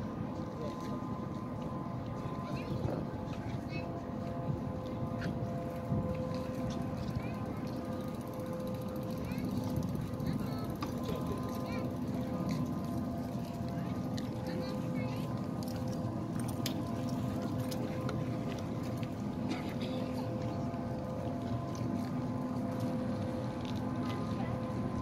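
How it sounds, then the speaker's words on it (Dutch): Boat motors drone steadily in a continuous low rumble as they slow, a broad engine hum with wind noise, sustained and moderately loud throughout. "Goed, omdat de motors wat trager gaan nu."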